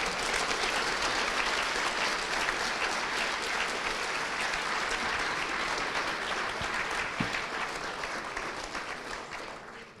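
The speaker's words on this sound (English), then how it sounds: "A round of applause for a bunch of good-looking folks wearing white coats." Sustained applause from a large audience, steady and dense clapping throughout, fading slightly toward the end.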